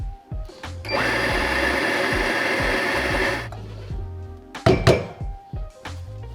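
An espresso grinder runs steadily for a few seconds, purging stale pre-ground coffee left from the previous shot, then stops, followed by a couple of sharp knocks and clatter nearby.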